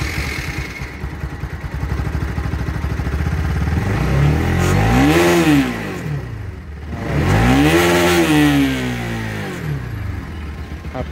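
A Bajaj Pulsar NS 200 motorcycle engine, which stalls on its own, idles with a rough clatter, then revs up twice, each rev rising and falling back to idle, loud and close.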